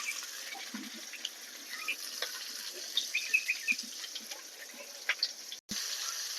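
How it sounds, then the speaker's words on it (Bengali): Whole spices, cumin, bay leaf and chopped onion frying in hot oil for a jackfruit curry, a steady close sizzle with scattered crackles and pops throughout, briefly cut off near the end. "তেলে দিয়ে দেবো গোটা গরম মশলা জিরে তেজপাতা দিয়ে দেবো আর দেবো কেটে নেওয়া পেঁয়াজ"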